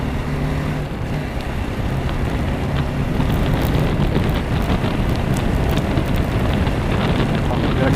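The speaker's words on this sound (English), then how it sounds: "Experiencing a little drizzle here" Light drizzle while riding a BMW 310 GS motorcycle on a coastal road near Vizag, heard as dense, steady hissing rain and wind noise with engine rumble underneath, loud and constant throughout.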